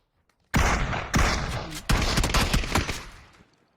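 Close gunfire in PUBG on the Sanhok map: a loud volley of rapid shots begins after a short silence, with several sharp cracks bunched into bursts, then fades out with echoing tails.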